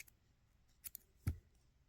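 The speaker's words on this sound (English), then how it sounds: "Go through there and cut our yarn." Scissors snip through crochet yarn in two quick, faint clicks close by, in an otherwise quiet room with no voices.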